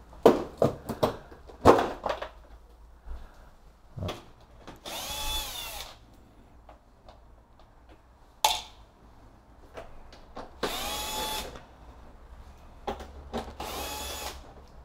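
A power drill backs screws out of a side panel on a 2021 KTM 1290 Super Adventure S, loud whirring bursts of a few seconds each alternating with clicks, clunks and handling noise close by.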